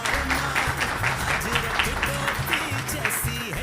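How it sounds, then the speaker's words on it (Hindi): Applause at a Punjab Autos Honda motorcycle lucky draw in Gujranwala, a steady wash of clapping from a crowd with voices and music-like tones running underneath throughout. "पंजाब ऑटोज़ के लिए भरपूर तालियां जी"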